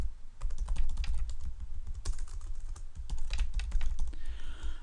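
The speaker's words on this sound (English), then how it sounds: "I'm going to type the names of a few places" Rapid typing on a computer keyboard with dense, irregular clicking keystrokes that continue throughout, close by, with no voices.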